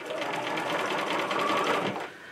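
A sewing machine runs steadily, stitching through denim on bell-bottom jeans, with a fast, even mechanical rattle close by that stops abruptly near the end.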